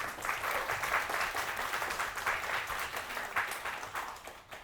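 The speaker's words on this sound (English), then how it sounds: "Please give yourself a big round of applause." Audience applause at a graduation ceremony closing a symposium, a broad wash of clapping that stays fairly steady and moderately loud for several seconds before tapering at the end.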